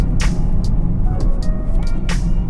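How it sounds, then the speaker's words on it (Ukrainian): A Toyota Corolla rolls over a speed bump at 50 km/h, with two brief thuds about two seconds apart rising over a steady low road and engine rumble. "Давайте переїдемо лежачий поліцейський. Подивимося, як з таким завданням справляється Toyota Corolla."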